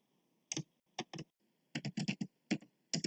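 Fingers type MySQL commands on a computer keyboard, with crisp, close keystrokes in short uneven bursts: a few isolated taps, then a quicker run of clicks, separated by silence.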